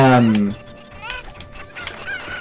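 Chicken clucking in the Ocarina of Time randomizer video game, a loud burst of clucks at the start that fades into quieter game sounds and background noise.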